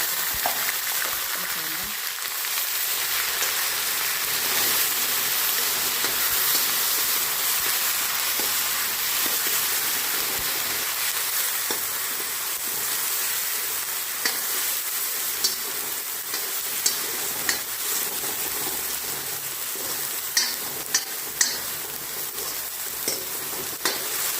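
Fenugreek and cumin seeds sizzle in hot oil for a karhi, a steady crackling fry that carries on throughout, with small sharp pops and clicks growing more frequent toward the end.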